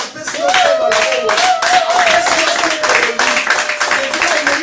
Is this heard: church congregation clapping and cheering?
yes